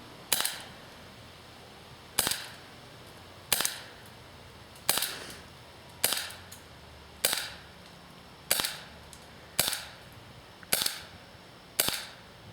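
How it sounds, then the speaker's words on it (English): Wingun M1911 gas-powered non-blowback CO2 airsoft pistol fired at a 25-foot target, ten sharp evenly spaced pops about one to one and a half seconds apart, each with a brief fading tail over quiet background. "This is the M1911 by Wingun at 25 feet. It's a gas-powered, non-blowback pistol."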